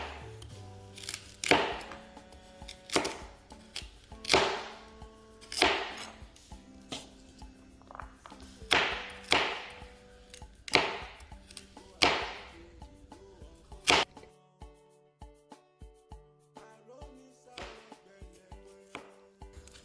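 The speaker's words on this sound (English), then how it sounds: "The first thing I'm going to do is, I'm going to dice the carrot" Repeated knife strikes dicing carrots on a cutting board, in uneven bursts of sharp chops with short pauses between them, close and fairly loud.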